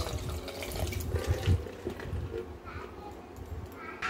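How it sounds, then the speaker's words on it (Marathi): Fenugreek leaves being swished and rinsed by hand in water, close splashing and sloshing with short watery gurgles over about four seconds, with no clear voices. "असं स्वच्छ पाणी निघेपर्यंत ही मेथी 2-3 पाण्याने धुवून घ्यायची चांगली स्वच्छ"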